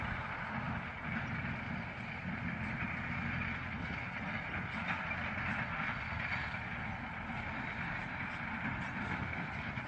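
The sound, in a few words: vehicle approaching on road, engine like McCormick 650 tractor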